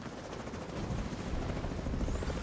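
A helicopter in a video game flies overhead, its steady rotor chop a continuous loud rumble that swells slightly toward the end, with no talk over it.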